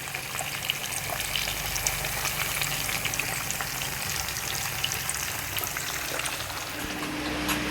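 Chicken pakoda frying in hot oil at home, a steady, close, continuous sizzle with bubbling crackle running throughout, no voices.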